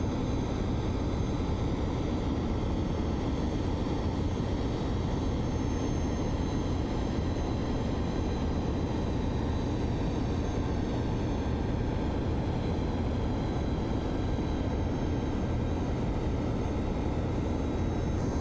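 A Falcon 50 business jet cruising in a flight simulator gives a steady, unbroken broadband roar that holds at an even loudness throughout, with no talking.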